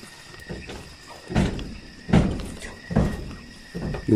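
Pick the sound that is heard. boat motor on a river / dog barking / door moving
door moving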